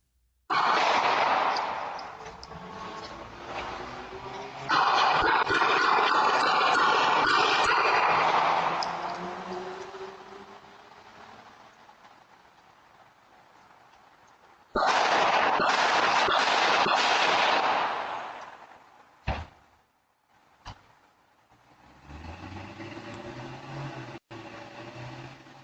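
Doorbell camera audio from a driveway on a quiet residential street during a deadly shooting and attempted carjacking at night, with long stretches of loud rushing noise and a few sharp cracking bangs near the end.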